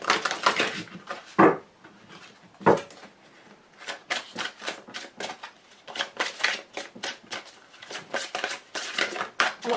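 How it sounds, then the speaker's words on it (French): A deck of angel oracle cards is shuffled by hand: crisp, papery bursts come close and loud, first a few separate riffles, then a rapid run of quick repeated flicks. "Un très joli jeu de cartes. Très facile à mélanger"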